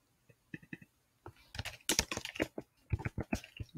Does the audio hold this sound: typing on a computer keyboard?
yes